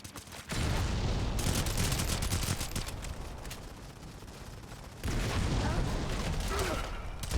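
Sustained automatic gunfire from Modern Combat 5 on iOS, loud continuous bursts that pause briefly and resume, with a commentator talking faintly underneath.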